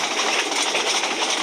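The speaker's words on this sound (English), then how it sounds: "India's most fastest train, Vande Bharath Express, running at a speed of 180 km per hour" The Vande Bharat Express, India's fastest train, rushes past at 180 km/h as a loud, steady roar of wind and rail noise with faint clatter, close and continuous throughout.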